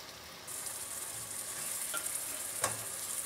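Minced onion cooking in a pan for spaghetti meat sauce gives a soft, steady sizzle that swells after the first half-second, with a couple of faint utensil clinks, quiet and close.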